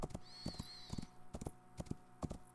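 Horse hoofbeats from the video game Rising World, a white mare being ridden: irregular clip-clop thuds repeating steadily over a few seconds, fairly close, with a brief whinny-like tone near the start and no talk.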